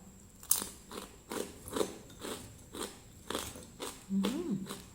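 Crispy pork crackling crunched and chewed close up, a series of sharp rhythmic crunchy bites repeating about every half second, with brief faint voice sounds.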